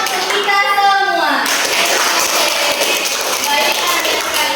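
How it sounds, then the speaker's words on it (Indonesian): Students in a classroom burst into sustained, lively applause after a debate lesson, with dense clapping continuing throughout and children's voices mixed in over it. "Dan tepuk tangan untuk kita semua."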